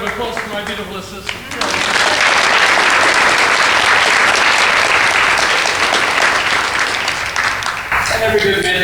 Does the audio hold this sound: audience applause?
yes